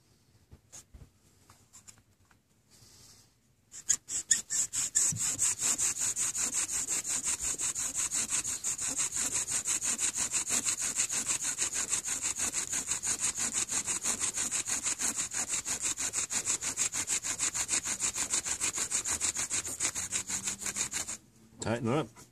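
Bow drill spinning a wooden spindle to make fire, rapid rhythmic back-and-forth squeaking friction strokes that run steadily for about seventeen seconds after a few quiet starts, close and loud.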